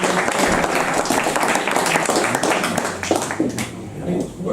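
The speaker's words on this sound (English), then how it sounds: "I think that deserves another round of applause." A crowd applauds at a Belfast chat event with a founding Thin Lizzy member, with loud, sustained clapping and voices mixed in before it thins toward the end.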